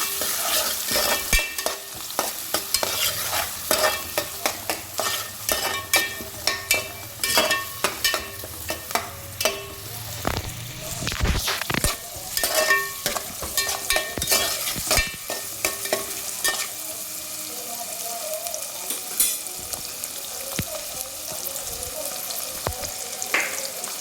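Veg pulao ingredients are roasted in a pan while being stirred, so a continuous sizzle runs under repeated scraping and clattering of a spoon. The stirring is louder and busier in the first half and eases off later.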